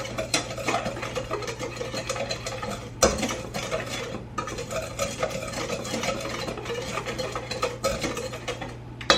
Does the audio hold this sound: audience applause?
no